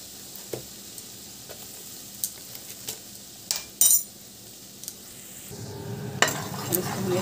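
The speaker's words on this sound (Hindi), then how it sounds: "अब इसको हम चलाते जाएंगे।" A spoon stirs semolina and gram flour through hot oil in a pan while making moong dal halwa. Faint sizzling runs under a series of light scrapes and clinks, and a louder frying hiss builds near the end.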